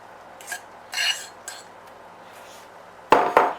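Coated vegetables tipped out of a dish onto a metal cookie tray, a few soft clinks and scrapes followed by two sharper metallic clatters near the end, close and otherwise quiet.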